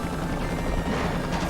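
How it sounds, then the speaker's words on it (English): Helicopter in a Spider-Man video game, a steady whirring rotor drone with a faint crash or thwack mixed into the game action, continuous and fairly loud. "Helicopter!"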